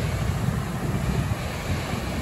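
Steady wind buffets the microphone on a sunny day at Mission Beach, San Diego, a loud low rumble with surf washing underneath and no voices.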